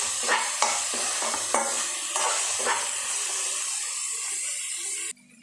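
Onions or spices sautéing in oil for hotel-style sambar, a steady sizzle with several scraping stirs of a spoon against the pan, continuing loudly before cutting off abruptly near the end.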